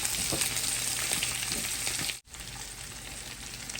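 Garlic and vegetables frying in a pan give a loud, steady close sizzle, briefly cut off for a moment midway, then sizzling on.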